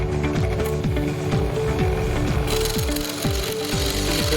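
Scroll saw cutting with a workpiece holder fitted, a steady loud mechanical buzz with rapid regular strokes that keeps going without a break through the whole stretch.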